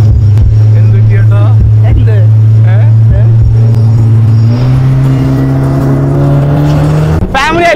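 A motorboat engine roars loud and close while the boat turns on the water near Kodungallur, its droning pitch climbing steadily through the turn, with voices mixed in underneath.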